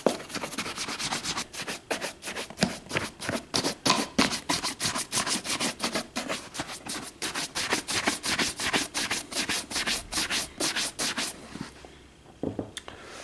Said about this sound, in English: Give it a good buffing.